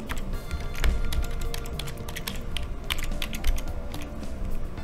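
A password being typed on a computer keyboard, a rapid uneven run of close, crisp key clicks that continues throughout with no voices.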